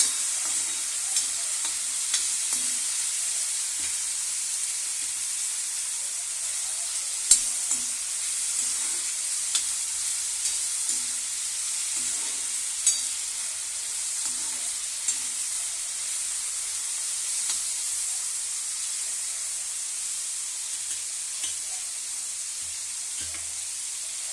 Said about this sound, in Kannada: ರೊಟ್ಟಿ ಹಂಚಿನಾಗಿ ಉರಿತಾ ಇದ್ದೀನಿ ಚೆನ್ನಾಗಿ ಫ್ರೈ ಆಗ್ಬೇಕ್ರಿ ಹೀರೆಕಾಯಿ